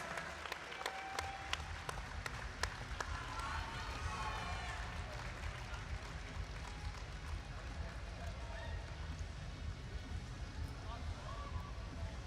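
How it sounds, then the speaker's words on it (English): Audience at a robotics district competition in Columbus applauding award winners, a dense sustained wash of clapping and crowd noise in a large hall, with a few sharp claps near the start and an announcer voice underneath. "can we give our first Leadership Award winners here at Columbus a huge round of applause?"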